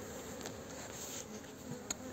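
A dense, steady hum of many honey bees at a crowded hive that has run out of room, close and continuous, with a brief louder buzz as one insect passes near.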